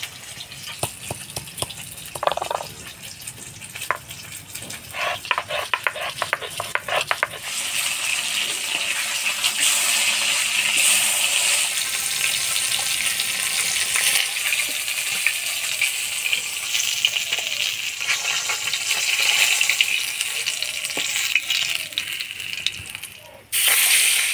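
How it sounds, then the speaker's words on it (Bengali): Katla fish pieces frying in hot oil in a home kitchen pan, a few clinks and clatters at first, then a loud, steady sputtering hiss that carries on unbroken to the end. "এবার মাছগুলা ভেজে নিব।"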